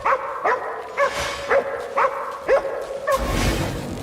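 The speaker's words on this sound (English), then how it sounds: "He's just barking up a storm for some reason." Insistent, close barking from a dog in the video game Crimson Desert, six evenly spaced barks about half a second apart, then a burst of broadband noise at the end.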